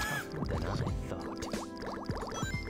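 Bouncy electronic music from the video game Sonic Adventure 2, built on plinking, bubbly notes that mimic falling water drops, playing quietly and steadily.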